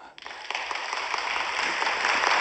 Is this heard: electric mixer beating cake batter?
no